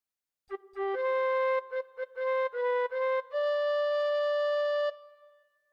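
A bright, breathy tin whistle plays a short melodic phrase of quick separate notes, ending on one long held tone that fades out.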